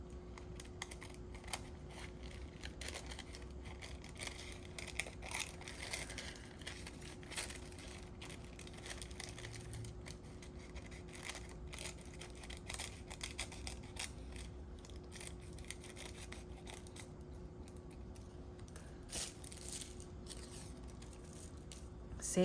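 Scissors snip paper cutouts for a Tim Holtz-style paper collage, a quiet, steady run of small clicks and crinkles close by, with no talking.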